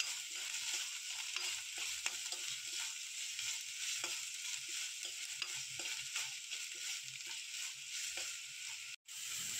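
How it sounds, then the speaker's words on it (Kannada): Finely chopped green chillies and curry leaves fry in oil, a soft continuous sizzle with light scraping and stirring strokes throughout, fairly quiet and unbroken apart from a brief dropout near the end. "ಸಣ್ಣಗೆ ಹೆಚ್ಚಿರುವ ಹಸಿರು ಮೆಣಸಿನಕಾಯಿ, ಕರಿಬೇವನ್ನು ಹಾಕಿ ಚೆನ್ನಾಗಿ ಮಿಕ್ಸ್ ಮಾಡಿಕೊಳ್ಳೋಣ."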